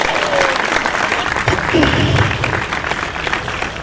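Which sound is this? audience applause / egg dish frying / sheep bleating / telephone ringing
audience applause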